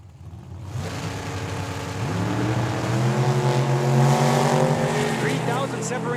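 A 1969 Camaro and a pickup truck launch side by side at a drag strip, engines roaring and climbing in pitch as they accelerate away, loud and sustained, while an announcer talks over the noise.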